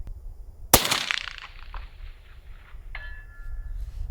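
A single sharp rifle shot from a lightweight concealable sniper rifle cracks loudly outdoors, then trails off in a fading echo, followed by a faint distant ring as the round strikes a steel silhouette target.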